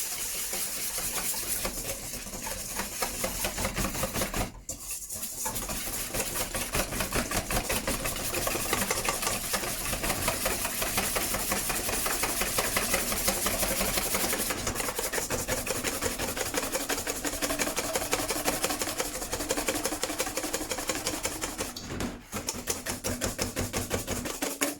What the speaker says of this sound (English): I always start with whisking my egg yolks together with my icing sugar.